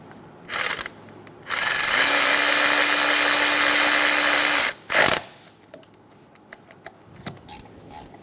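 A tool drives Honda Accord motor mount bracket bolts with a loud, close, steady whir lasting about three seconds, bracketed by short bursts and followed by lighter clicks and clatter.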